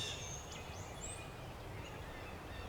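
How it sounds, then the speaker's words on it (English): Wild turkey gobbling in the woods on a windy, rainy morning, a few faint, distant calls carried over steady wind and rain noise. "I'm hearing some gobbling"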